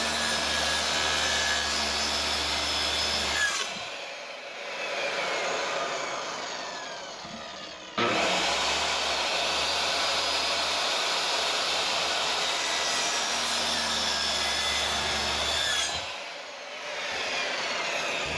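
A saw cuts repeatedly through an old pine board to make thin strips, producing a loud, steady rasping whine in two long runs separated by a brief pause, close by with no talking.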